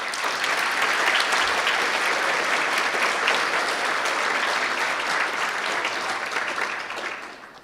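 A banquet crowd at a Martin Luther King Jr. event applauds the deans, a loud, dense wash of clapping sustained for several seconds before it fades.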